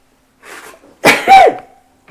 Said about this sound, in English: I've got to get a tissue and sneeze.